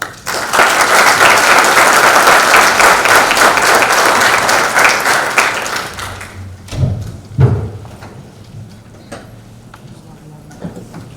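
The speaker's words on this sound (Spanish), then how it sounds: "Le damos, por favor, un fuerte aplauso" Loud, dense audience applause at a legal lecture in Peru, sustained for about six seconds, then dying down to a few scattered claps and thumps.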